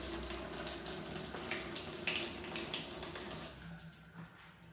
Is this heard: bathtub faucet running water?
yes